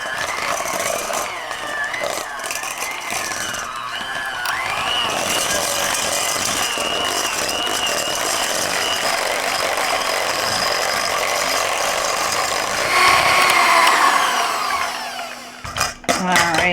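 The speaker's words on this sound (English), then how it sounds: "Now we're going to go ahead and take our hand mixer," A handheld electric mixer blends cream cheese and half a stick of butter for a mint chocolate chip cheesecake dip, giving a steady, loud motor whir with shifting pitch that runs throughout before cutting out near the end.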